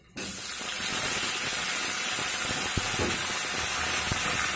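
Chopped tomatoes drop into a pan of fried ginger and onion, setting off a loud, steady hiss of sizzling that holds evenly throughout, with a couple of faint clinks.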